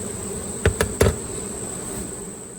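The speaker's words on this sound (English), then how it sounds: "that's how we transfer a swarm to a main hive" Honey bees buzzing steadily as a swarm is moved into a 14-frame Layens hive, a continuous insect drone with three sharp knocks or taps partway through.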